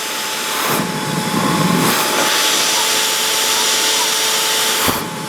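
A loud, continuous rushing whoosh of air, like a vacuum drawing through a car's clogged diesel particulate filter, steady with occasional bumps.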